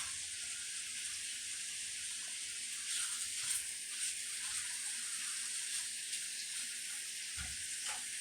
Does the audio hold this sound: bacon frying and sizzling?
yes